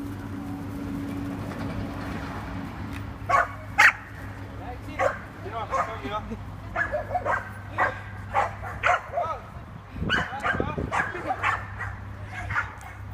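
Staffordshire bull terriers and a staffie-husky cross bark and yip in repeated sharp bursts while running about outdoors, fairly close, with people talking over them and a steady low hum underneath.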